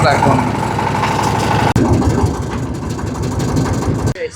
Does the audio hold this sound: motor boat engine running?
yes